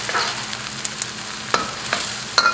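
Aromatics sizzle and crackle as they heat in a wok for a Vietnamese eel dish, a steady close hiss broken by a few sharp pops and ticks.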